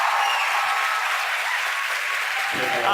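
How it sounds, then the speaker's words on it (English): A crowd at SpaceX headquarters in Hawthorne cheers and applauds during a rocket launch, a dense, steady burst of clapping and roaring that fills the whole moment, with a voice beginning to speak near the end. "The crowd's going nuts here at SpaceX headquarters in Hawthorne."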